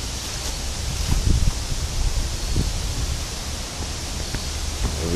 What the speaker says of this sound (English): It's like a blustery day out here.